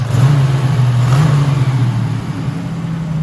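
A turbocharged 1987 Buick Grand National engine revs up and holds a loud, steady drone close by, with a slight rise and fall in pitch.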